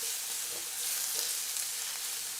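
Fideo noodles toast in a pan with a steady, fairly quiet sizzle, and faint stirring scrapes break in now and then.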